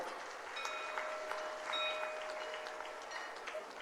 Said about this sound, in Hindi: तालियां आपकी तरफ से जरूर हों।